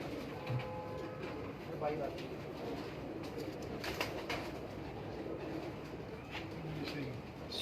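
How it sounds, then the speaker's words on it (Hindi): Soft pigeon coos sound now and then amid background chatter and a constant low hum. "सुन कबूतर है।"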